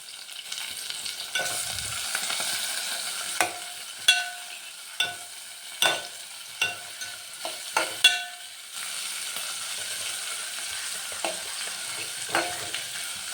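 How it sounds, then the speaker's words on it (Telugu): Onions fry in a pan with green chillies while a spoon stirs them until they darken, giving a steady sizzle with repeated sharp scrapes and knocks against the pan, close and alone. "అవి బాగా ఉల్లిపాయలు నల్లగా వచ్చేదాకా అవి కాగేదాకా తిప్పుతూ ఉండాలి"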